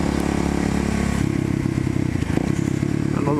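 A Kawasaki KLX motorcycle rides through town with a loud, close engine drone that steps to a new pitch partway through as it changes speed, with rattly mechanical texture and no talking.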